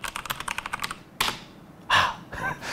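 Typing on a 1STPLAYER DK5.0 RGB mechanical gaming keyboard, a quick close burst of crisp key clicks followed by a few separate louder keystrokes.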